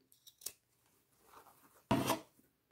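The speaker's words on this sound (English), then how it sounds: "now that I have that sewn on, I'm just going to give it a little trim" Scissors trimming fabric and leather fringe on a bag: a few quiet snips early, then one louder, closer cut near the end, in a quiet room with no voices.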